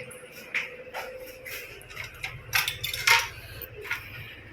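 Dishes being handled at a home meal of khichdi and pickle, a run of close, irregular clinks and light knocks of plates and cutlery, with no talking.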